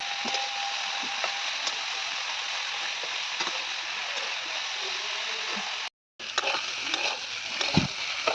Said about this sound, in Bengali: তো এই তো এখন কপিগুলো ভাজা হচ্ছে।